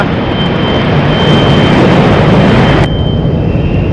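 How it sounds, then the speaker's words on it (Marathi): A military fighter jet roars near an airport, a loud, steady broadband engine rumble filling the whole stretch, with a thin high whine running through it that drops off sharply near the end. "हा विमानाचा आवाज येतो आहे लष्कराच्या विमानाचा आवाज सुखोई बिकोई जे काही फायटर जेट्स आहेत त्याचा आवाज येतोय"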